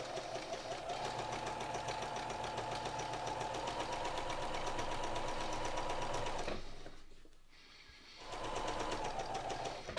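A sewing machine runs long gathering stitches without back tacking, a fast even mechanical chatter close by that stops briefly and then starts again, with no talking.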